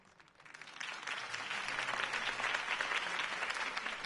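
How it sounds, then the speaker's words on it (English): Crowd applause in the Telltale Batman video game, rising from quiet into a steady, dense wash of clapping that holds loud and even until the end, with no voices over it. "If only Mr. Wayne, my campaign's largest backer, could have heard that applause"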